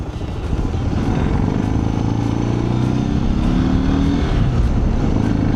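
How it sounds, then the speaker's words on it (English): Engine and tyre roar from a 2008 Suzuki DR650 on full knobby tires, a steady loud drone with rising engine tones as it rides along, close and continuous without speech. "I can also hear those, basically they're full knobbies."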